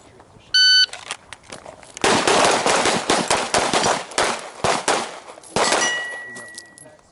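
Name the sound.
pistol shots hitting steel targets at a shooting range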